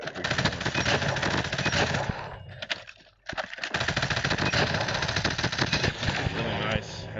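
Rapid automatic fire from a Switchblade X9 in Call of Duty Mobile, loud bursts of fast gunshots with a brief pause midway, then continuous firing, and a voice talking over the shooting.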